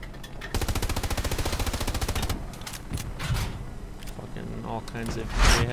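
A Panther tank's coaxial machine gun in Hell Let Loose fires a long, steady burst of rapid, evenly spaced shots up close, then stops. Scattered impacts and battle noise follow, with someone talking over the gunfire.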